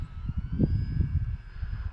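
A steady engine whine drones overhead from an E-flite T-28 Trojan RC model airplane, a thin sustained tone over low rumbling, with no one speaking.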